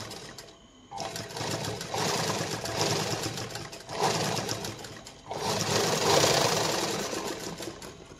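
A sewing machine stitches blouse sleeves in close bursts of rapid mechanical whirring, pausing briefly between runs of stitching.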